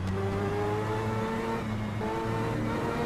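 An orange and green race car on a track, its engine roaring at steady high revs with a shift in pitch partway through, loud and close, no voices.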